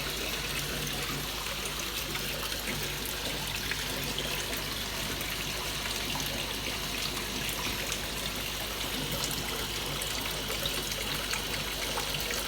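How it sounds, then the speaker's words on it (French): Water circulates continuously through closed-circuit larval hatchery tanks in a dark room, producing a steady, loud trickling and rushing that stays even throughout with no breaks. "les bruits d'eau, c'est parce que ici nous sommes en un circuit fermé"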